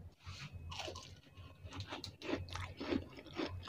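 Someone bites into a crispy fried egg roll snack and chews it, with repeated close crunches and crackling chews in a steady rhythm, no talking.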